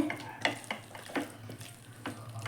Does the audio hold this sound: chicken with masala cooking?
yes